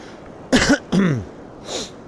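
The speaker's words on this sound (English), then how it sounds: "I'll have a good cough" Two sharp coughs in close succession, followed by a fainter third, close and alone in a quiet setting during a guided beach meditation.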